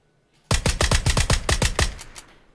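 A suppressed VSS rifle fires full auto in PUBG, a rapid burst of about a dozen close, punchy shots lasting around a second and a half, alone without voices.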